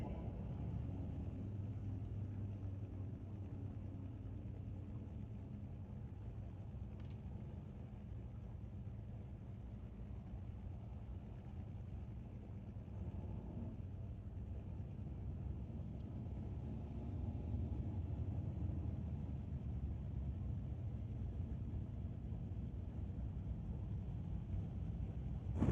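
Drag racing cars, a Plymouth against a Chevy, run down the strip at a street legal night race at Mission Raceway Park. A steady, distant engine rumble holds through the whole stretch and swells slightly near the end.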